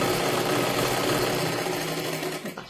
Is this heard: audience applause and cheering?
no